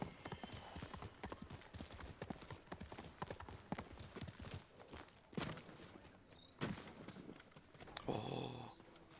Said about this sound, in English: I'm just taking my horse down here.